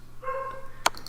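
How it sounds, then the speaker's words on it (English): Dogs in a home bark during a chess commentary: a drawn-out, tonal yelp is followed by a sharp single bark and a short echoing yip, all somewhat distant and fairly quiet over a low background hum. "pardon the dogs."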